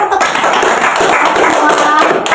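A group bursts into brief, loud applause, a dense patter of clapping with voices talking over it.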